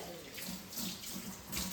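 Water runs steadily from a tap, a continuous splashing hiss with no one speaking.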